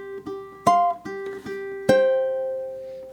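Ukulele plucking the next measure of a song in a tutorial, with sharp plucked chord hits in a halting rhythm and short notes between them, close and alone.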